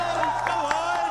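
A live esports crowd at a Fortnite LAN event at the Esports World Cup roars and cheers in a steady, dense wash, with a few louder swells and someone talking over it nearby.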